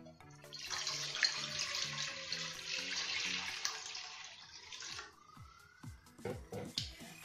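Tap water runs into a pot for spaghetti in a home kitchen, a steady hissing stream for several seconds that then stops, followed by light clinks and clatter of cookware.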